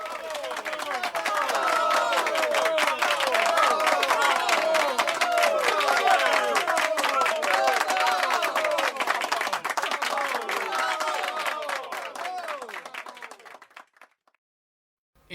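Dense, lively applause from an audience, with voices mixed in, holding strong for several seconds before tapering off and dropping to silence near the end.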